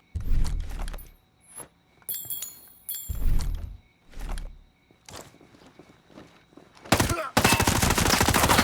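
Video-game gunfire blasts enemy troops in a doorway during a stealth mission at a military base: scattered loud bangs and thuds mixed with footsteps and clatter, ending in a sustained, dense burst of firing.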